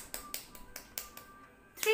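Fingers tapped onto an open palm in a classroom clapping warm-up, a handful of soft light pats spaced about every quarter second, with a louder burst of voice at the end.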